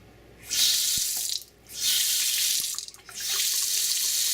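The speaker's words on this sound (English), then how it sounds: "it doesn't restrict the water flow" A new kitchen faucet fed by quarter-inch copper tubing runs in three strong bursts, its water hissing loudly into the sink with brief pauses between.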